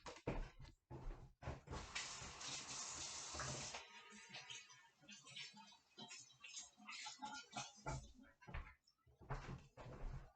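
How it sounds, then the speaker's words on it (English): Water runs steadily from a tap for about four seconds while hands are washed beneath it, then stops, followed by scattered close handling clicks and knocks. "before starting, wash your hands. So I'll go do that."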